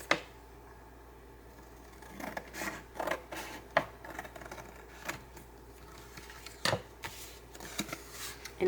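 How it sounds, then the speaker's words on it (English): Scissors snip through paper scraps while a handmade postcard is made: a few soft, irregular cutting clicks and rustles, quiet and close, with gaps of near-silence between them. "take some scissors"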